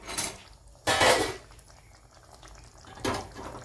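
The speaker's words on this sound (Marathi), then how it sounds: "मी अजून आता थोडंसं पाणी टाकणार आहे" Hot water splashes into a cooking pot of drumstick pod curry in short pours, with faint kitchen clatter between them.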